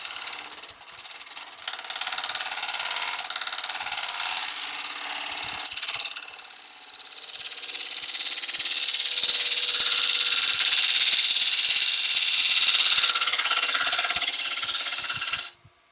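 Wood lathe spinning a bowl while a spindle gouge cuts down its side, a continuous loud scraping whir that dips briefly midway then resumes steadily, with faint light rattles.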